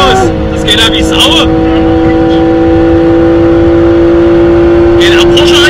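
A Porsche accelerates at a drag race, its engine a loud, sustained droning tone held close by, with faint voices mixed in.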